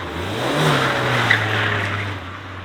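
A stock Mazda MX-5 Miata NA drifts with the engine held at a steady, sustained drone that swells slightly midway, fairly close and loud, with a faint tire squeal and no talking.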